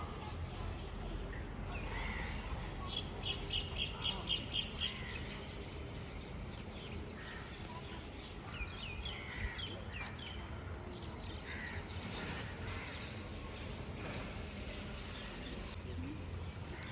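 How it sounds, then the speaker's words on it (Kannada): Faint birds chirp and call in the distance over a low outdoor hum, with a brief burst of repeated chirps early on. "ಬರ್ಡ್ಸ್ ಚಿರ್ಪಿಂಗ್ ಸೌಂಡ್ ಕೇಳಿಸ್ತಾ ಇದೆ"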